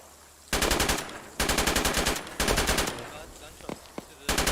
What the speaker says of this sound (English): Gunshots to the west.